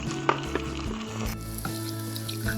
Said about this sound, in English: hit the pan again with a little oil and then cook the sauce we just blended earlier